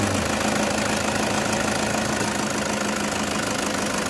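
A 2013 Toyota Fortuner G TRD Sportivo automatic runs at idle with the bonnet open, its engine giving a loud, close, steady rumble with a fine knocking clatter and no break.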